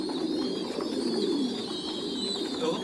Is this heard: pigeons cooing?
yes